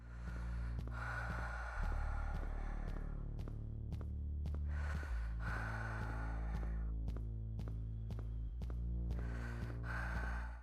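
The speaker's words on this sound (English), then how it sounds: "the auditory representations were created to mimic human breathing" A human breathing sound effect from a first-person shooter game: heavy, close gasping inhales and exhales repeat in a slow cycle over a low throbbing hum, with no speech.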